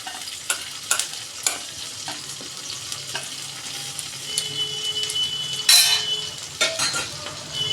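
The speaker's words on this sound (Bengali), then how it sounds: "ডালটা দিয়ে দিচ্ছি" Soaked, washed dal goes into a hot pan and sets off a sizzling hiss with a louder burst midway. Sharp spoon clinks and scrapes repeat throughout, close and fairly loud.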